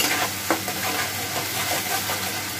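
Spice masala for a duck egg curry being sautéed in oil, a continuous close sizzle broken by repeated scraping stirs of a spoon across the pan.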